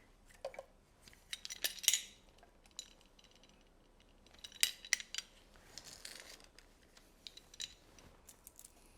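Fresh garlic cloves go through a handheld garlic press in a home kitchen while a Korean spicy cucumber salad is being made: faint metallic clicks, squeaks and scrapes come in scattered bursts, with no talking.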